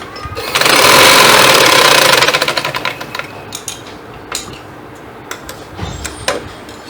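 A sewing machine stitches a side pocket on a garment, a close, steady whirring burst lasting about two seconds, then fading into short intermittent stitching pulses and light handling clicks.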